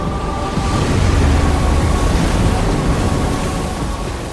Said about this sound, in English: Melting glaciers released huge walls of water.